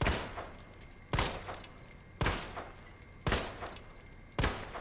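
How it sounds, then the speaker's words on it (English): Handgun fire in Resident Evil 2 Remake, played in Claire's story: five loud, evenly spaced single shots about a second apart, each a sharp crack with a short decaying tail, no speech. "it just kind of sounds like a standardized handgun, but just kind of like a tad bit louder"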